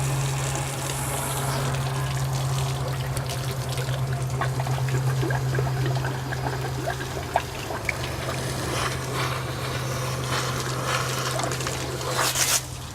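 Water flushes steadily through a Dultmeier salt brine maker pump, a continuous rushing, trickling flow with a low hum under it and a few faint knocks, lasting the whole stretch with no voices.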